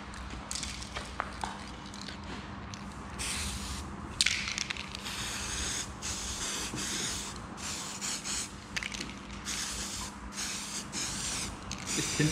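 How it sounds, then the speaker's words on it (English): Repeated hissing bursts of window tint aerosol spray on a Vauxhall Corsa VXR, several long sprays in a row with short gaps, close up over a noisy background. "Tint spray is horrendous."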